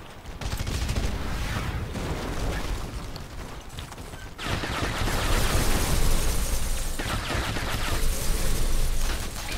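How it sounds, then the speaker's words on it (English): An explosion in the video game Red Faction: Guerrilla, a dense roaring blast with crackling debris and rumble that swells midway and sustains loudly, with no talking over it. "it's about to blow up anyway."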